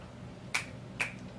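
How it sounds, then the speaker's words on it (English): Two crisp finger snaps, close and distinct, about half a second apart over a quiet background. "snap your fingers twice"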